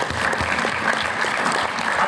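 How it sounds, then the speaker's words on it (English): An audience applauds at a youth congress session on a green initiative, steady dense clapping close and sustained throughout with no break. "Give it a round of applause."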